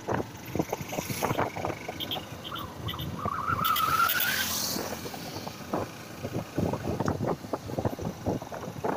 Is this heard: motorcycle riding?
yes